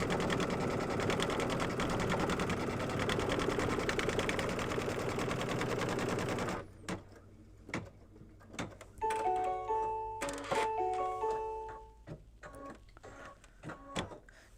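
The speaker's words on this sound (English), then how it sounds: "So the next stitch it's going to do is a placement for the inner heart." An embroidery sewing machine stitches a heart placement line in red thread for a mug rug, a rapid close chattering hum that stops midway, giving way to a few beeps, clicks and handling sounds.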